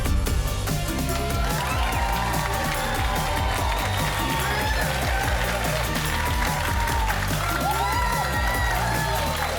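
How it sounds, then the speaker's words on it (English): A television studio audience applauds and cheers a guest, loud, steady clapping and whoops mixed with a bright, music-like backdrop throughout. "another round of applause"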